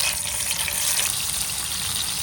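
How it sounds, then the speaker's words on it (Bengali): Hilsa fish pieces rubbed with turmeric and salt fry in hot oil, giving a continuous close hiss and sizzle at an even level with no talking. "এখন গরম তেলে ভাজতে হইবে।"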